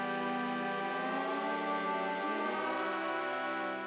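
Sustained synth chord from the Fluid Chords plugin in a melodic drum and bass track, rich layered harmonics holding steady with a slight shift partway through, loud and alone.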